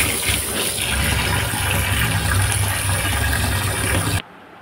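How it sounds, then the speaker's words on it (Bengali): Fish washed with salt and hot water: running water gushes and splashes steadily and close for about four seconds, then cuts off sharply into quiet. "এখন আমি লবণ আর গরম জল দিয়ে ধুয়ে নিচ্ছি"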